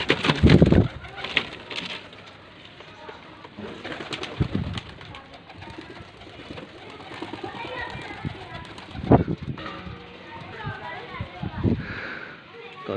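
Baby pigeons being trained cooing and flapping nearby, mixed with children's voices and someone talking in the background.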